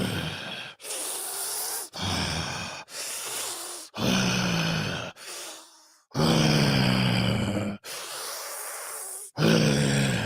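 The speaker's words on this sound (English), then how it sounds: "Do y'all hear her breathing?" A woman breathing heavily in a played-back recording, with a series of loud, drawn-out, rasping breaths and grunting exhales, close to the microphone, separated by short gaps.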